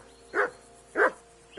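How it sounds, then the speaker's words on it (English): A dog barks twice in the video game Kingdom Come: Deliverance II, two short, mid-distance woofs about half a second apart over a quiet background. "Whistle at that mutt of yours to stop barking!"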